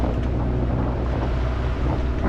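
A boat engine runs at 2500 rpm, a loud, steady, unbroken drone mixed with wind buffeting the microphone, with no pauses and no talking.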